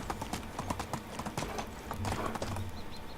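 A donkey's hooves clip-clop in Medieval Dynasty, a quick irregular run of close hoof strikes on the ground that continues steadily throughout.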